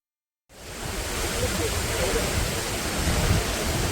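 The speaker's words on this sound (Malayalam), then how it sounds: "വെള്ളച്ചാട്ടമൊക്കെ കണ്ട് ഇവിടെ ഇങ്ങനെ നിൽക്കുക" After a moment of silence, a constant rushing roar of a waterfall in Vagamon rises and holds steady, loud and close.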